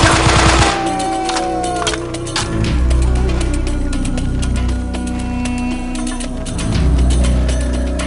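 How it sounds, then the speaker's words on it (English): Sustained machine gun fire from the video game Delta Force: Black Hawk Down, loud dense rapid bursts of automatic shots layered over battle noise, nearly continuous for the whole stretch. "We're taking lots of fire!"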